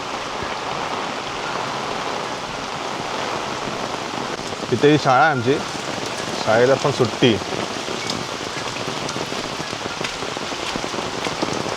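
Heavy monsoon rain pours steadily on a Konkan village with farmland, a constant dense hiss of drops on surfaces. A nearby voice talks briefly midway over the downpour.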